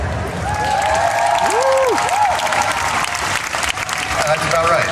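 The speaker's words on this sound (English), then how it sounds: "all you have to do is cheer when I point to your favorite" At a cosplay contest at Walker Stalker Germany 2018, an audience claps and cheers in a loud, sustained burst of crowd noise, with a voice rising above the applause.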